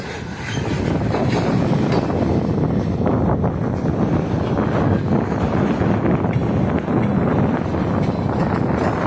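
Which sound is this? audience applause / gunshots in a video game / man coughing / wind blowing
wind blowing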